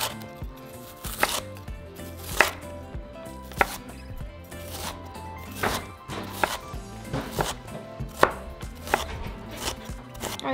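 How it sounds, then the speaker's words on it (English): A knife chops an onion into small cubes on a cutting board, a steady series of close, crisp thuds at an even rhythm with no talk. "for my onion I'm just going to cut into small cubes"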